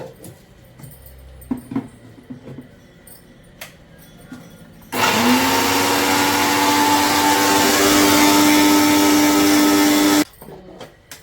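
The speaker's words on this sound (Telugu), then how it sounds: "ఇది ఒక రెండు నిమిషం ఒక నిమిషం మిక్సీ పడతా" A mixer grinder whirs loudly as it grinds oven-roasted curry leaves into powder, a steady high motor drone that starts abruptly midway and cuts off cleanly after about five seconds, with faint kitchen clatter before.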